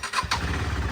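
A KTM Duke motorcycle engine starts for the first time after fresh fuel is primed, cranking briefly before catching into a close, steady idle, with no talk.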